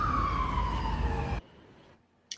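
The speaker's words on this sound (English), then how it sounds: "that ambulance noise, man, it gets me all the time" An ambulance siren wails loud and close with a single long falling tone, then cuts off abruptly, leaving a quiet background and a brief faint noise at the end.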